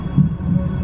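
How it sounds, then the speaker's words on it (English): A low heartbeat thump pulses under a humming backing in a song, two soft beats in under a second with no talk. "we've got like a heartbeat going on"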